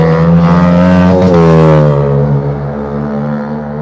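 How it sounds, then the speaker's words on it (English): A noisy motorbike passes close by on a street in Blackpool, its engine note loud and droning, then fading as it moves away over a few seconds. "There's some noisy motorbike, isn't there?"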